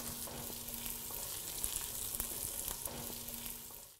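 Chorizo and onion fry in a pan with a steady, soft sizzle and crackle, a quiet close hiss that continues throughout without any talking.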